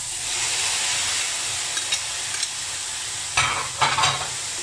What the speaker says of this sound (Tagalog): Ihalo natin para hindi masunog yung bawang